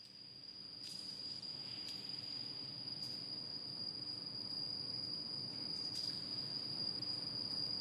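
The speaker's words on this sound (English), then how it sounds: "It is surprising that there are crickets hiding down here." Crickets chirp inside a concrete bridge pier foundation, a steady high continuous trill with a few sharper chirps standing out, faint and echoing over low hollow background rumble.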